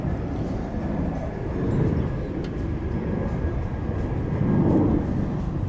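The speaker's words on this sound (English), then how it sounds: "I'm staying so close to the airport, that you can hear every plane going over." An airplane passes overhead near an airport, a low, broad rumble that swells and fades twice over a few seconds, heard alone and fairly loud against steady background noise.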